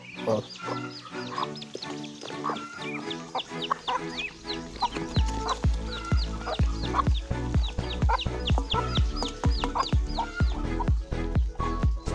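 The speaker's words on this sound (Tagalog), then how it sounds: "dito po sa likod bahay backyard mga pato at saka manok" Chickens cluck and squawk continuously in a busy chorus, with occasional higher calls, close by and fairly loud in a backyard kept with chickens and ducks.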